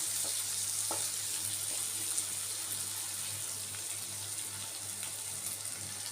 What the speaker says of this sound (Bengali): এইভাবে উল্টে পাল্টে একদম লাল লাল করে ভেজে নেব চিংড়ি মাছগুলোকে